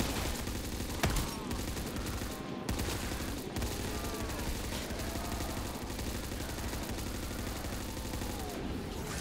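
A Browning machine gun in Black Ops 3 custom Zombies fires in a dense, continuous stream of rapid gunshots, with a few sharper cracks standing out over the steady barrage.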